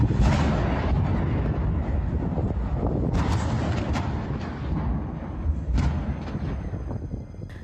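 Explosions at a burning Seveso-classified factory in Rouen come through as a few dull, muffled booms over a constant rough roar of fire and wind.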